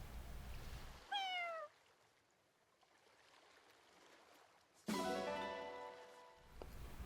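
A cat meows in the video game Fire Emblem Engage, two clear separate meows a few seconds apart, close and fairly loud against quiet ambient game background.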